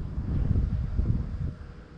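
Gusty wind buffets the microphone during a drone flight, making a steady low rumble that swells and eases for a couple of seconds, with no voices.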